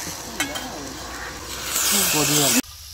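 Mackerel masala fry sizzles in a pan with a hissing crackle that swells near the end before cutting off abruptly, while a person speaks over it.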